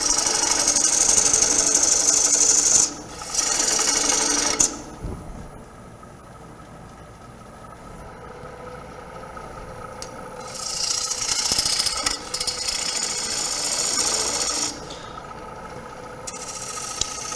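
A wood-turning gouge cuts wood spinning on a lathe during a live turning demonstration, giving repeated passes of close, rough, hissing shaving noise separated by quieter stretches of the lathe's hum.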